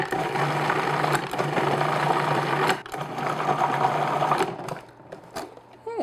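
A food processor whirs steadily as it blends cream cheese tart filling, a loud continuous motor drone with brief dips and pauses, then stops as the blade winds down.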